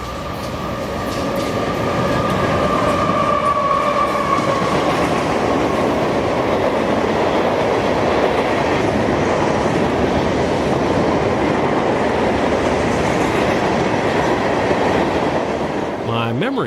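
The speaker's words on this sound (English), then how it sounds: "On track 2 currently is K927, an as-needed job bringing aggregate rock from K-Mac, Georgia near Augusta to Taft," K927, an all-gondola freight train hauling aggregate rock from K-Mac, Georgia to Taft, Florida, rolls past on track 2 as a loud, steady rumble with wheel clatter lasting nearly the whole stretch.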